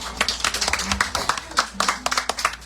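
An audience at a church service claps their hands in a busy patter of irregular, sharp claps of moderate loudness that continues throughout, with faint voices mixed in.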